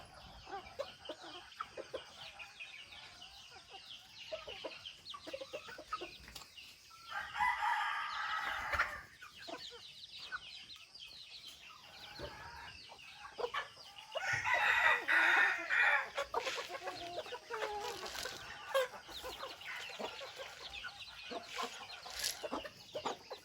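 Chickens cluck steadily in the background while a rooster crows loudly twice, with scattered rustling and bird calls throughout.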